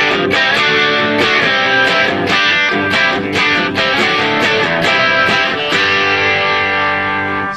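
An electric guitar plays loud distorted chords and notes straight into a Traynor YCS 50H tube amp with no pedals, miked by a large-diaphragm microphone, in a steady rhythmic pattern with sharp attacks and sustained crunch.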